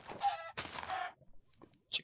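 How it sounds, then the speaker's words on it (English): Chicken clucking from the video game Minecraft, a couple of short bursts of clucks heard alone and fairly close, separated by brief quiet gaps. "Chicken."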